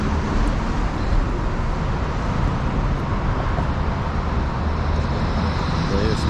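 Steady broadband roar of city traffic on a noisy downtown street in Ottawa, continuous and fairly loud with vehicle rumble and no clear pauses or distinct horns.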